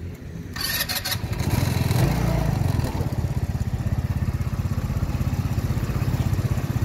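An AJS Modena 125cc scooter engine cranks briefly and catches, then settles into a steady, close, putt-putting idle that carries on without any voices.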